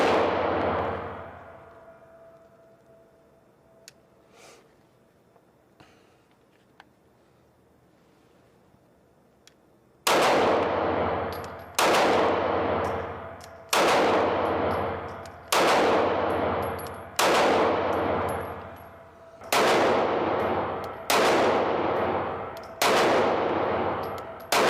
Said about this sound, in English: Been shooting pretty quick on some of it